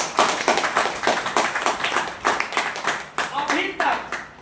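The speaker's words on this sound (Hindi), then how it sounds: "एक ताली होना चाहिए।" Audience applause at an Indian business plan presentation, a dense run of many hands clapping together with steady loudness for several seconds.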